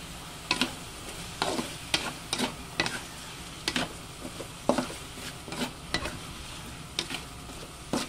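Chayote being stirred in a hot pan, sizzling steadily with repeated scraping strokes of a utensil against the pan, close and moderately loud with no talking.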